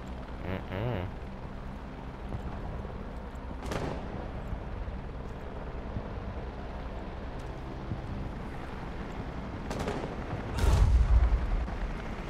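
Several deep booming explosions in the video game Rainbow Six burst out amid a steady rumbling background, with the heaviest blast near the end and faint talk underneath.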